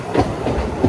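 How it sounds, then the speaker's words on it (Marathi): Train wheels roll over rail joints on the Sangli to Kolhapur line, a close, loud rhythmic clatter with steady low rumble and repeating thumps, no voices. "आता सध्याला ट्रेन आलेली आहे आणि त्या ट्रेनचं चाक गोल फिरत आहे"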